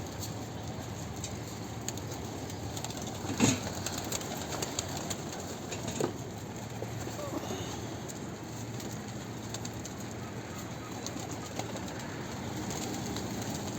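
A pigeon coos softly against steady background noise, with a couple of faint taps and rustles; no one speaks.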